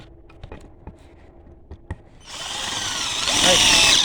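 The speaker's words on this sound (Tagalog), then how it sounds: "check natin yung drill" A Yojimbo 20-volt cordless drill follows a few sharp clicks and taps, then whirs up into a steady, loud, high-pitched spin that builds over the last couple of seconds.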